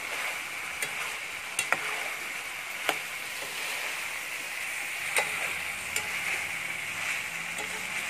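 Okra frying in a pan with onion, chillies and raw prawns for a traditional Telugu prawn curry, giving a steady sizzle with occasional stirring clicks and scrapes, close and continuous, with no talking.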